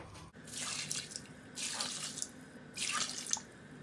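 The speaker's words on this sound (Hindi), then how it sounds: "4 प्यालियां मैं पानी की इसमें ऐड करूंगी" Water poured from cups into a pot holding chicken breast and lentils: three separate splashing pours, each about a second long with short pauses between, close and fairly soft, no talking.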